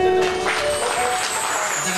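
A church congregation at a Indonesian-language New Year service breaks into dense, sustained applause, with voices mixed into the clapping.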